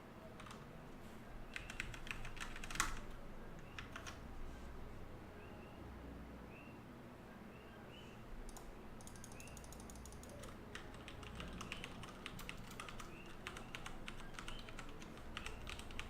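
Steady clicking of computer keyboard typing runs throughout at moderate level, with denser bursts of keystrokes and no talk over it.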